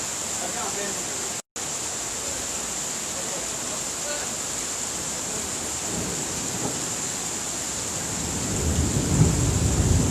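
Steady heavy rain pours during a flood in Abidjan, with a low thunder rumble swelling near the end; faint voices sit under the downpour.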